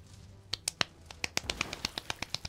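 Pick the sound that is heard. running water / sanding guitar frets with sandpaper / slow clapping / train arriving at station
slow clapping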